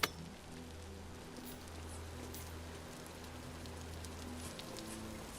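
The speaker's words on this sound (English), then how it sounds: "it's been like cloudy and rainy and stuff a lot of the time" Steady rain patters continuously in a video game, an even hiss of drops on surfaces with a low droning tone underneath and no voices.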